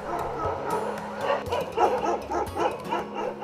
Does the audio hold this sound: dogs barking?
yes